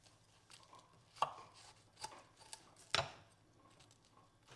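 A knife cuts a mozzarella caprese sandwich in half with a few sharp crunching strokes and softer scraping cuts in between, close and moderately loud, with no talking.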